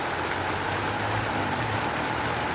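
Steady rain pouring down during a hot-weather shower near the southern sea coast, a dense continuous hiss of drops at close range, even in loudness throughout and with no voices.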